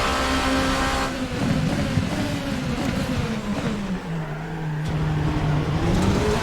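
A Rebellion R13 LMP prototype race car in the video game Assetto Corsa drones steadily and loudly throughout, its engine pitch rising and falling as it accelerates and slows, with no talking.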